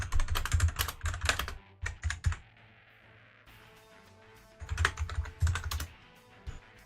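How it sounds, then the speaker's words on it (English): Rapid clacking keystrokes on a computer keyboard come in bursts separated by quieter gaps, close to the microphone, with a few lone taps toward the end. "My typing is really bad when I stream"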